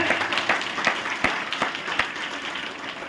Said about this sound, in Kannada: ಚಪ್ಪಾಳೆ ತಡಬೇಕವ್ರ